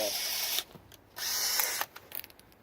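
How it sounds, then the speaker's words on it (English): A power drill with a step drill bit whines in two bursts, each about a second long, boring holes through an IBC tote tank, followed by a few short clicks and rattles. "I just use a uni bit like this to drill holes"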